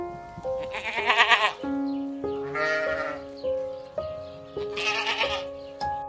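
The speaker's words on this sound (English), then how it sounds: "Zebras are striped herbivores native to Africa" A zebra, a striped African herbivore that lives in herds and is related to horses and donkeys, gives three loud, close braying calls, each a pulsing run of harsh, stepped-pitch barks with short pauses between them.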